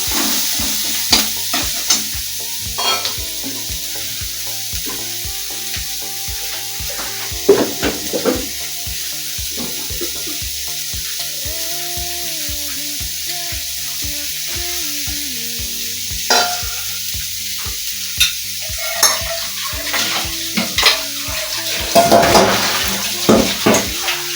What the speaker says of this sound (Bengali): পেঁয়াজ আর রসুনটাকে কড়াইয়ে দিয়ে দিই, এবার বেশ করে লাল করে ভাজবো।